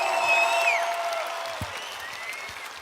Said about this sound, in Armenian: խնդրում եմ մի հատ բուռն ծափերով նախագահ Մակրոնին ողջունել